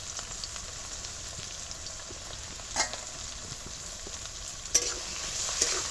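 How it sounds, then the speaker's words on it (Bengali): Chopped green chillies, capsicum and tomato fry in a pan, a steady close hiss of oil with occasional spatters and a couple of stirring scrapes, with no one speaking. "এবার এগুলোকে একটু ভেজে নেব"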